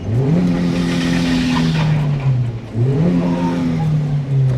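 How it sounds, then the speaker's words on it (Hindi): A Hyundai Aura's 1.2-litre four-cylinder Kappa petrol engine runs and revs, with two smooth rising-and-settling engine sweeps, heard close and fairly loud without speech. "सबसे पहले मैं कार को स्टार्ट कर लेता हूँ।"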